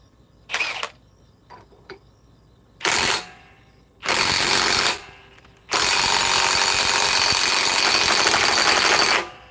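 An Anycubic 4Max 3D printer running at high speed gives off loud mechanical buzzing and whirring in bursts, a few short stutters first, then longer runs ending in a sustained harsh drone.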